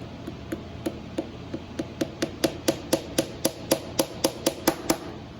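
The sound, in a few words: hammering a fret into a ukulele fretboard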